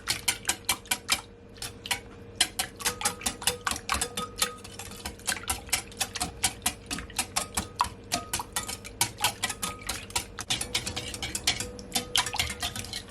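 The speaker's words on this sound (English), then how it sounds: "So now that it is all whisked" A whisk beats French toast egg mixture with sugar in a bowl, producing a fast, steady series of clinking taps against the bowl, continuous and close with no talking.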